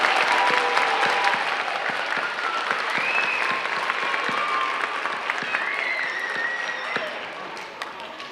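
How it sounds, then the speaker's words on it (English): Sustained clapping from an audience applauding student inventors at an invention convention, dense and steady for the whole stretch with scattered cheers and whistles rising over it. "We have a round of applause for all of our student inventors."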